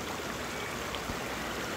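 The Huejoyo river in El Salvador flowing in a continuous, even rush of water, heard close with no voices.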